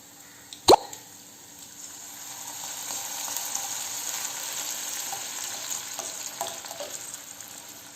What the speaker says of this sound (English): Now I am going to add our tamarind juice.